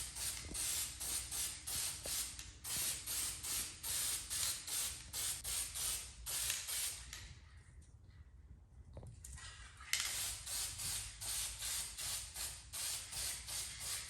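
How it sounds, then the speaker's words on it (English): Rapid, rhythmic hissing bursts from a spray can applying copper coating to metal parts, pulsing steadily, with a brief quieter pause midway before the spraying resumes. "I sprayed them with copper coating"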